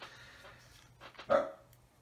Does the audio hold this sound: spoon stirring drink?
no